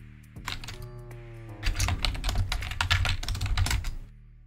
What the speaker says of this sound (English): I heard Corbinian typing